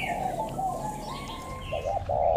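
A dove gives a few soft, low coos close by, mostly bunched toward the end of a short stretch with a steady background hiss and no talking.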